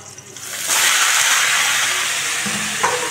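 Sliced potato and ridge gourd dropped into hot oil for a Bengali shrimp curry, a loud close sizzle that swells suddenly and holds steady, with a brief stirring clatter near the end.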